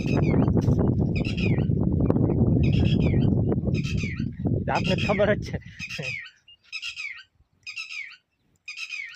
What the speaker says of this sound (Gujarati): આ કયું પક્ષી બોલે જરા કોમેન્ટ કરજો